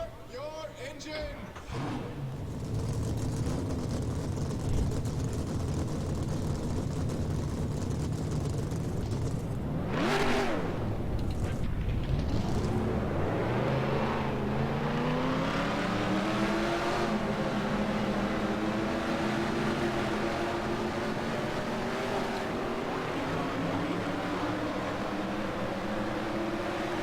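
Stock-car racing game engines roar continuously, with one sharp rising whine sweeping past and a sustained engine drone filling the rest at a steady, moderate level.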